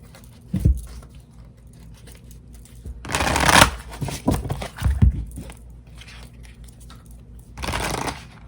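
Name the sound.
tarot cards being shuffled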